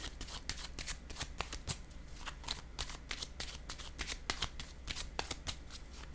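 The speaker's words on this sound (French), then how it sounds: "Je vais déposer une carte sur début." Tarot cards are handled in quick, close, crisp flicks and riffles, with a steady rhythm of soft slaps as they are shuffled and laid down.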